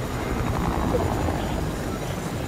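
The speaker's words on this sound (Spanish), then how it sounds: "¿Nos pueden derribar esto en el helicóptero?" A helicopter flying in the video game Fortnite, a steady rotor and engine drone throughout, with players talking over it.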